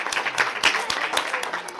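A crowd at a school teaching-materials fair applauds the first-place school with brisk, scattered clapping that rises and falls in uneven bursts.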